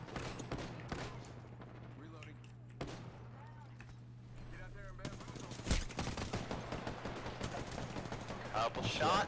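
Gunfire rattles through a round of the video game Apex Legends: bursts of automatic shots and sharp single cracks, some near and loud, others quieter. Players talk over much of it.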